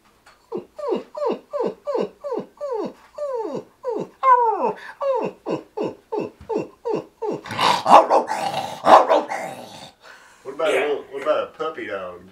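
A voice imitates a dog, starting with a long string of short, evenly spaced barks and yaps, then moving into rougher growling and snarling bursts before a final whimpering stretch, all close and loud.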